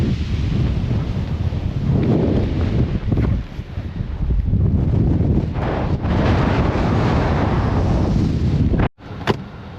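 Strong winter wind in Alaska buffets the microphone in heavy, loud gusts, rumbling and roaring almost without pause before a brief drop near the end.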